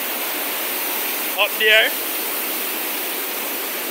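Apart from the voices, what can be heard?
river water rushing through a gorge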